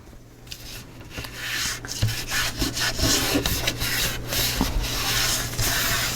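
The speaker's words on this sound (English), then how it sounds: "I'm just going to take my cloth and kind of clean up the excess that's coming out" Cloth rubbing and wiping over a glued mini album cover, a steady scratchy friction of repeated strokes with small taps, close and alone.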